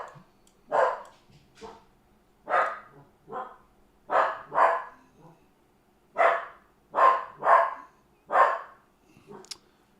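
A dog named Maxie barks in a steady series of sharp, fairly close barks, roughly ten over several seconds with short gaps, in an otherwise quiet room.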